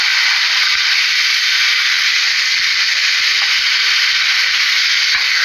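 Thin bacon strips frying fast in a pan give a loud, steady broadband sizzle that holds unbroken, with faint scattered crackles and pops underneath.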